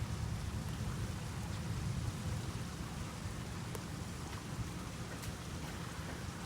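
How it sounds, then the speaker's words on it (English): Light drizzle falling after a severe storm in Miami, a soft continuous hiss of rain with low rumbling wind noise underneath, steady and even for the whole stretch. "It's drizzling right now."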